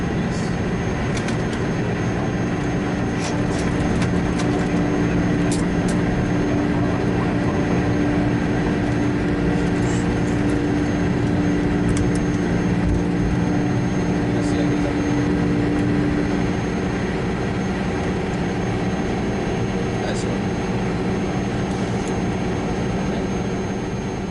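A Biman Bangladesh DC-10 jet roars steadily through its takeoff roll and climb, a loud sustained engine rumble with a steady tone, heard from inside or close by for the whole stretch.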